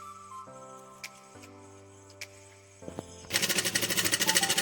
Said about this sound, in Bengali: এই দিকটা সেলাই করে নেব।